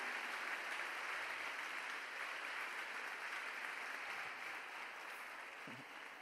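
Steady applause from a church congregation, somewhat distant and soft, carrying on evenly from start to finish.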